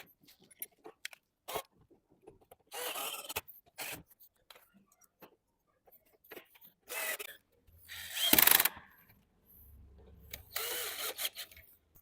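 Screws being driven into a 4-in-1 multi game table during assembly, with several short bursts of ratcheting and mechanical whirring between quiet pauses and small clicks, close by.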